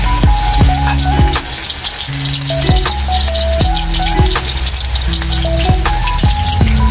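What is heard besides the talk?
chicken wings frying in hot oil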